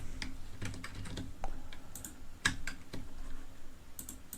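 Keys clack on a computer keyboard in a quick irregular run of close, crisp taps with a few louder strokes, over a faint steady background and no voices.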